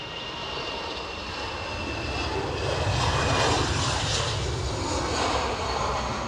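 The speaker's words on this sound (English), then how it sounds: "EasyJet to Gatwick." An EasyJet jet taking off from Edinburgh Airport bound for Gatwick, a broad, steady engine roar that swells gradually toward the middle and holds loud, heard alone without talk.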